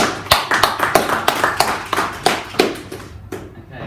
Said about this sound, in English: So round of applause for Harry